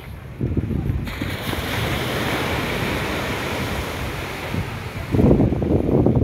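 Surf washes onto Browns Beach on the southern side of Carlisle Bay, Barbados, as a continuous broadband rush with swells rising near the start and end, overlaid by gusty wind buffeting the microphone.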